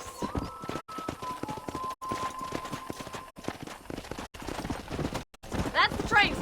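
Steady clip-clopping of a horse's hooves at a walk in a video game town, close and continuous, with a short whinny near the end and talk throughout.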